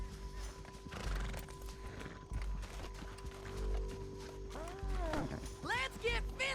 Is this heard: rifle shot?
no